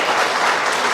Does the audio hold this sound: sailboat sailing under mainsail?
no